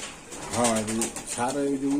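Pigeons coo in two rounded, throbbing phrases at a Bangladeshi pigeon market, close and fairly loud, with other market noise faint behind them.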